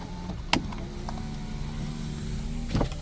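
A white Hyundai Avante MD's automatic driver-side power window motor runs with a steady, close electric hum, framed by a short click as it starts and another as it stops.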